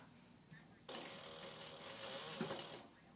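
A sewing machine stitching a short run of a few stitches on a beachcomber clutch, a quick close burst of about two seconds that starts and stops sharply against a quiet background.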